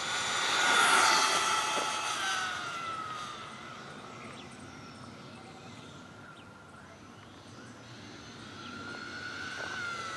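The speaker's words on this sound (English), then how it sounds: "I'm just going to do a full throttle takeoff in the grass" A small 1:18-scale RC model with a Castle Creations Mamba Micro X ESC and 0808 motor runs at full throttle on grass. A faint, thin motor whine rises and falls at a distance over quiet outdoor background.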